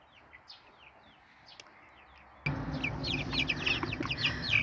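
Chicks cluck and chirp softly at first, then a louder burst of clucking and rustling fills the second half, close by.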